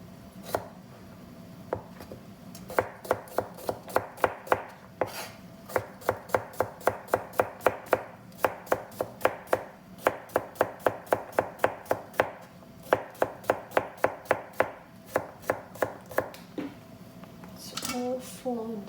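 Rapid, steady knife chopping of cucumber on a cutting board, with dozens of close, sharp evenly spaced strikes in bursts and a brief pause near the end, with voices talking in the room.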